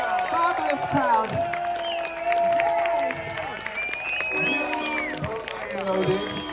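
A crowd at a concert at Truck Country 2025 cheers, whoops and claps steadily throughout, loud and close, with scattered shouting voices mixed in.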